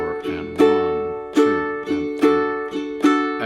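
Ukulele strummed in a steady rhythmic pattern during a play-along lesson, with sharp strum attacks roughly every three-quarters of a second ringing out between them, close and clear with no talking.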